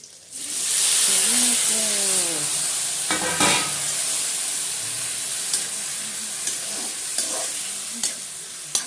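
Fenugreek seeds sizzle in hot oil as a tempering for tomato chutney, a steady, loud frying hiss with occasional stirring clinks, and a voice briefly speaks near the start.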